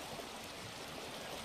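Running water flowing steadily through a fish pond setup, a continuous soft rushing hiss with no breaks or other sounds.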